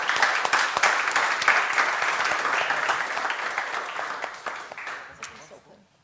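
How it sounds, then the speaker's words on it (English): An audience at a software tool launch event applauds in dense, steady clapping that carries on for several seconds and then thins out and fades away. "we'll give them a round of applause"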